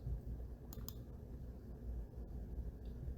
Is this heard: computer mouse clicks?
yes